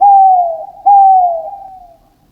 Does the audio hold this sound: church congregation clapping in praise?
no